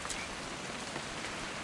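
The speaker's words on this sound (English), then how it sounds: "It's gonna rain the whole weekend, isn't it?" Steady rain falls during a weekend hunting trip, a dense, even hiss with no clear individual drops and no voices over it.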